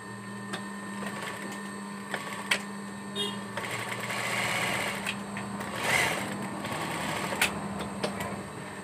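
A sewing machine stitches the lining of a jacket in quick, light mechanical bursts with scattered clicks, fairly faint over a low steady hum, with a voice faintly present.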